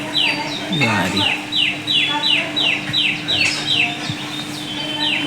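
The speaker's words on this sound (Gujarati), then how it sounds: "જો આ પક્ષીનો અવાજ તમને સંભળાય?" Morning bird calling outdoors, a string of about a dozen sharp, repeated downward-sweeping chirps in steady rhythm, fairly close and clear over faint background hum, with a brief voice at the start.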